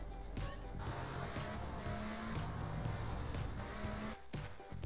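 A car in a role-play driving video game pulls away, its engine droning and revving steadily at a moderate distance before briefly dropping off near the end.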